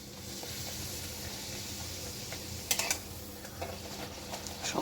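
Luchi fry in hot oil in a home kitchen. A faint, steady sizzle runs throughout, broken by a few brief utensil clinks near the end.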